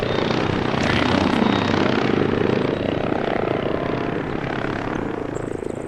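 A spawned helicopter in a military video game mission roars continuously with dense rotor and engine noise, loud and close, holding steady throughout with no talk.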